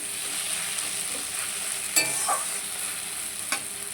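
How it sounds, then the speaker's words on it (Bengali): Snake gourd sliced and frying in a pan gives a steady, close sizzle throughout, with a few sharp spatula scrapes and taps against the pan as it is stirred. "এটা তোমার চিচিঙ্গা ভাজা করছি"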